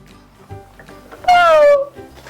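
A single loud, drawn-out meow-like cry with a falling pitch, standing out briefly over quiet background rustling.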